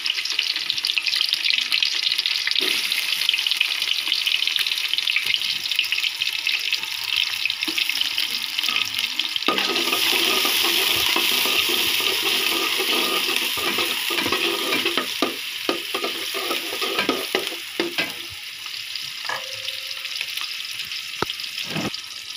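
Onions drop into hot oil for a home-cooked biryani, giving a steady loud sizzle with stirring scrapes, water-like hissing and occasional clatter throughout.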